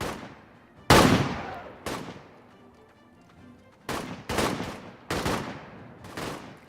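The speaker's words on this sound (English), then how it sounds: "I'm gonna make sure to turn that gunfire down a little bit." Gunfire in an RPG video game: several loud, sharp shots and short bursts spaced irregularly across the clip, each decaying quickly, with quiet gaps between them.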